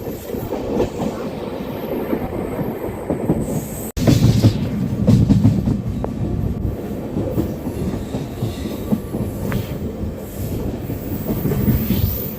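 A train rolls into Tambaram station, heard from on board as a loud, steady rumble with rhythmic clickety-clack of the wheels and occasional squeals of wheels on rails.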